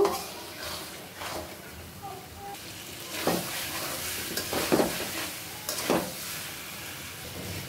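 Chicken and mung dal are stir-fried in a pan with a steady, soft sizzle underneath. A spoon scrapes through the mixture in several separate strokes that come at irregular intervals.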